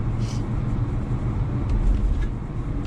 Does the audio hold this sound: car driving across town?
yes